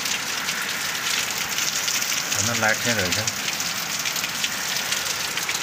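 Heavy rain pours down during a Dashain festival outing, a steady close hiss of drops hitting surfaces running throughout, with a voice briefly speaking partway through.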